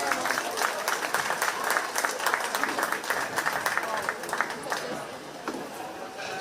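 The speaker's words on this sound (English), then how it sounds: "Let's give her a big round of applause." An audience applauds at a county fair 4-H sheep and goat show, sustained crowd clapping at moderate distance with a little murmuring under it, continuing throughout.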